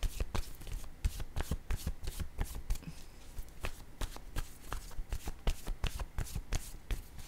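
Tarot cards being shuffled and drawn, with a dense run of quick, papery riffling and snapping close by that stays fairly quiet and continuous throughout, and no voice.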